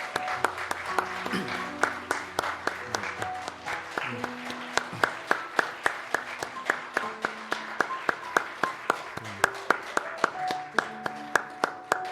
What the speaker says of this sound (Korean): 우리 박수로 두 분을 모시겠습니다